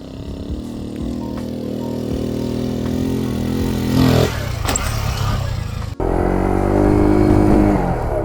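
A Kawasaki Z125 motorcycle engine revs hard and steadily while the rear wheel spins in mud on a failed hill climb. Loud and close, the pitch rises and falls, then drops sharply for a moment before revving again.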